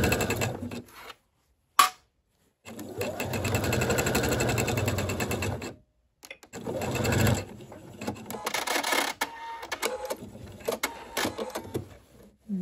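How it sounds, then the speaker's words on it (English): A sewing machine stitches along the edge of a horsehair braid hem on a skirt, with close rapid whirring bursts broken by pauses and short stop-start runs. "you're going to stitch right along the edge of the horsehair"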